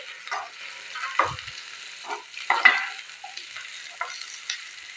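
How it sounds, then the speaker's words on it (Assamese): Onion, capsicum and green chilli fry in a pan for chilli potato, with steady close sizzling and scattered stirring scrapes and spatula clicks, no voices. "পিঁয়াজ, কেপচিকাম আৰু এয়া কেঁচা জলকীয়া এইখিনিও মই ইয়াতে দি ভালদৰে ভাজিম"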